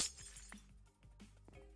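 A glass block breaks in the video game Minecraft, giving a faint, brief shatter followed by a few small clinks over a low steady background hum.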